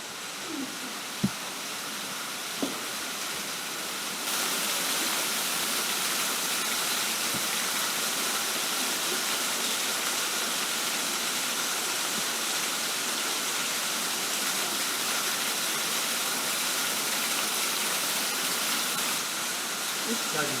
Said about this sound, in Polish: Wodospad jest wow.